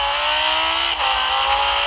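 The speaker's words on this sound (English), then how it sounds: "it doesn't really sound like an R8 to my perspective. It sounds more like a Lambo, which is okay. I mean, it has a V10 in it" Audi R8 with a V10 engine in the racing game Forza Horizon 4, a loud sustained engine note held steady throughout with a brief dip near the middle, close and alone with no talk.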